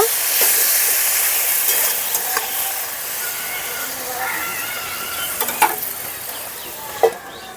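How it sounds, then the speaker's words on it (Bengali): Spice paste for Bengali chickpea ghugni sautéing in a pan with a little water, a steady close sizzle and hiss with occasional scrapes and stirring clinks, no talk. "এখন মশলাটাকে খুব সুন্দর করে কষিয়ে নেব একটু সময় নিয়ে"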